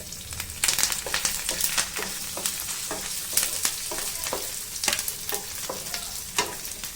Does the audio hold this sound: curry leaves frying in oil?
yes